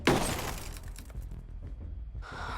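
Bulletproof glass shatters in the Ghost Recon Breakpoint video game: a loud sharp crash up front, then scattered tinkling fragments and debris over a low rumble, with a brief hiss near the end.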